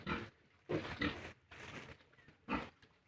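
A sow pig grunts and oinks in several short, low bursts with brief pauses, fairly close and moderately loud.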